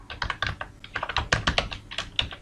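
Close, clear typing on a computer keyboard while entering a comment in C++ code, a quick uneven run of many key clacks with no speech over it.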